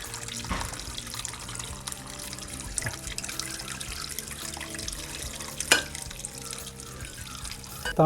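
Water drains out of a fish tank in a steady running flow, close and moderately loud with a few splashes and drips, no talking over it.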